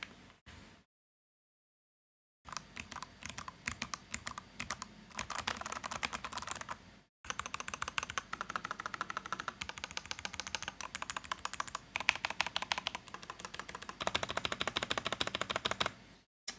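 Rapid keystrokes on a custom mechanical macropad with diced keycaps, a dense run of crisp clicks in quick bursts with brief pauses, close and alone with no talking.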